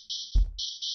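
A synthesized hi-hat built from a block chord of random sine waves in Desmos: a bright, hissy sustained band that breaks off briefly around a short, deep thump, then resumes.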